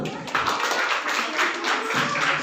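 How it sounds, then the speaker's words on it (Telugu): An audience claps together at a church Christmas celebration, a steady run of fairly loud, rhythmic claps heard close with no voices over it. "చప్పట్లు కొడదాం."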